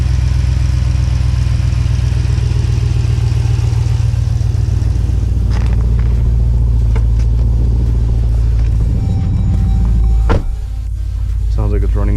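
A Jeep SRT engine, just converted to E85 fuel, idles steadily with a deep low rumble, fairly close, then briefly dips near the end before settling back to its even hum.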